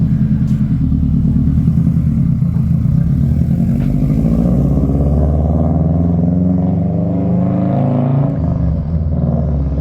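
A Subaru WRX freshly fitted with Tein Flex coilovers, lowered about two inches, pulls away with a loud, steady low engine rumble and rising revs, heard close and continuous with no talking.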